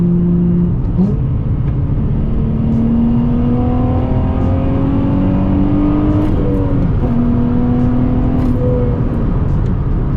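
A Nissan 350Z's engine drones loudly and steadily from inside the cabin, windows up, its pitch climbing smoothly as it revs up through the gears, with road rumble beneath.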